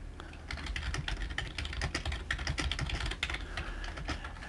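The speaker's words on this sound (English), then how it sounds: "We can type some text in here." Text being typed on a computer keyboard while editing a web page, a quick, continuous run of close key clicks with no talking.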